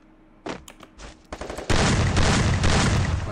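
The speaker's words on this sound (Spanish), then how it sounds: "Vale, con la escopeta yo creo que no lo voy a dar" Gunfire in the video game Free Fire: a few sharp shotgun-style blasts, then a dense sustained burst of loud overlapping shots and booms filling the rest of the moment.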